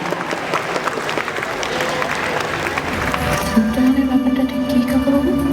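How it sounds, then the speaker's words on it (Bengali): Dense crowd applause claps loudly for several seconds at the Indian Museum, then fades under a sustained tone and some voices toward the end. "সবাই মিলে একসঙ্গে একটা জোরে হাততালি হোক"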